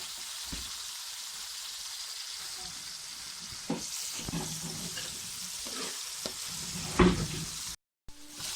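Garlic and onion sizzle steadily in hot oil, browning in a pan with a continuous close frying hiss, a few stirring knocks and clatters, and a brief cut near the end.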